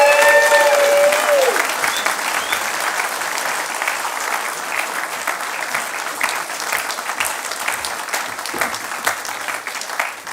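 A temple audience at Temple Emanu-El gives Rabbi Pesner a loud, sustained welcome of clapping, dense and steady throughout, with a brief voice heard at the very start.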